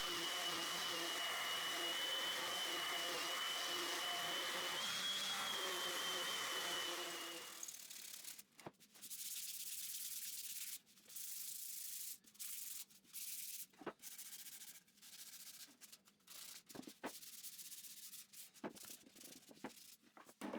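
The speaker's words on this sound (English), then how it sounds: "I sand both sides to 120 grit with the oscillating sander" Oscillating sander running steadily on pine boards at 120 grit, loud and continuous for about seven seconds, then stopping, followed by quieter intermittent scraping and handling noises.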